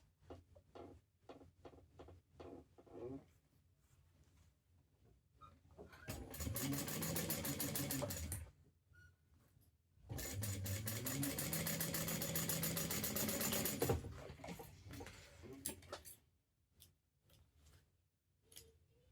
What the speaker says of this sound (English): next we're gonna sew the side bits to the bottom